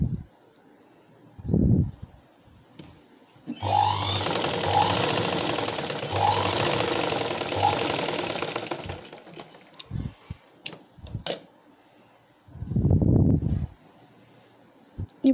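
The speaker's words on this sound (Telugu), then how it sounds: "మనం షేప్ బట్టిని స్టిచ్చింగ్ చేసుకోవాలి." A sewing machine stitches blouse fabric in one rapid, rattling run lasting about six seconds, with quieter handling noises and brief pauses before and after.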